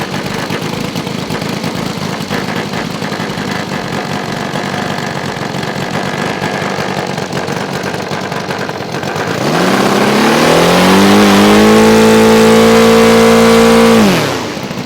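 The engine of a giant RC T-28 model plane runs on the ground, a steady loud drone that rises sharply into a higher, harmonic-rich run-up before dropping back near the end.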